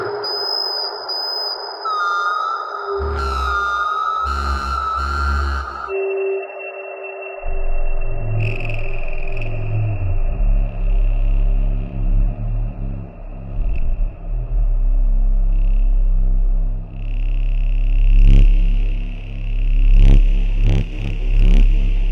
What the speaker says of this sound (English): the filters easily go into self-oscillation, and you can do what's called no input mixing and perform on the filter bank by itself just as an instrument